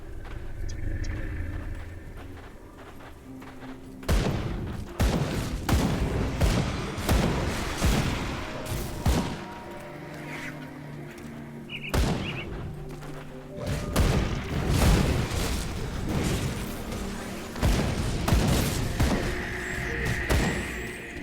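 Explosions in the action RPG Grim Dawn arrive in dense clusters of sharp, booming blasts, with short quieter lulls between volleys.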